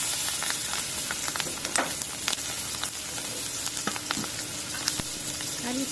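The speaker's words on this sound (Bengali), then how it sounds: "তেলের ভিতরেই পেঁয়াজ কাঁচামরিচ দিয়ে দিব।" Onion and green chili fry in hot oil in a pan used for frying koi fish, giving a continuous bright sizzle with scattered sharp pops and crackles, close and steady, without any voices.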